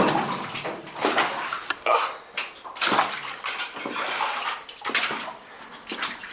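Footsteps slosh through shallow water and soft dirt inside a mine, with irregular wet splashes and squelches up close, several distinct steps over a few seconds.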